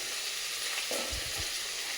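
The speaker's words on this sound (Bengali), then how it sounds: "এই যে এখানে হচ্ছে মাছ ভাজা" Fish frying in oil on a clay stove, a steady close sizzle with a few louder low thumps and stirring sounds partway through, no talk.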